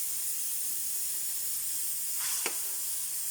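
Mung beans and smoked fish sauté in a pan, giving a steady, fairly loud sizzle throughout with a brief stirring scrape near the end.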